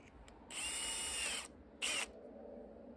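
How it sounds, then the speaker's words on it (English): A power drill bores straight down through a wooden mallet in two bursts, a high whine of about a second, a pause, then a shorter burst, close and alone. "I'm going to drill straight down using the holes as a guide so I get a perfectly straight hole"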